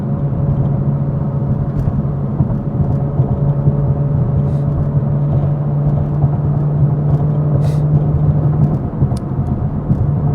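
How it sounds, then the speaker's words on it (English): A 700 hp 2020 Toyota Supra drives along, its exhaust producing a loud, steady low drone and rumble mixed with road whir, with occasional small clicks and no talking over it. "That is the exact sound of the exhaust."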